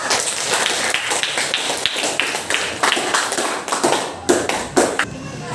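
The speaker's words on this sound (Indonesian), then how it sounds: "Tepuk tangan untuk kalian semuanya" A school class clapping together for student group presentations, brisk uneven hand claps with sharper individual claps near the end, close and moderately loud with some voices mixed in.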